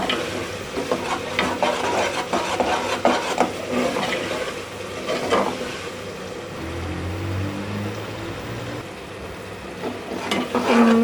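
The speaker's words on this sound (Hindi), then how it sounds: "मैं इसको ना ज़्यादा अच्छी तरह से भून रही हूँ" Masala with tomatoes being roasted and stirred in a pot for rajma curry, a continuous close sizzle broken by spoon scrapes, with no voices.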